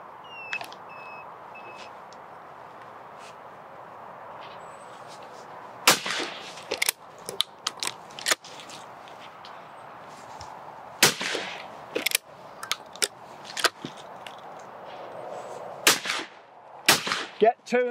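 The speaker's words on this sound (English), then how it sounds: "Now we're going to simulate a bit of pigeon shooting from a height, sitting down." Shotgun shots fired at a simulated pigeon flush from a seated, elevated position, about nine sharp loud reports in quick pairs and bursts after a quiet start, with a faint beep and brief talk.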